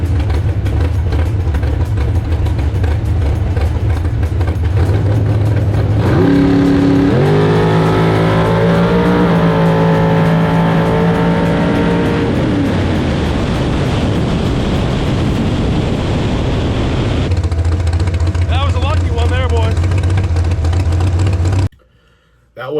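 A bracket drag racing car roars loudly down the track, its engine climbing through revs in a sustained blare before dropping back to a steady rumble and cutting off abruptly.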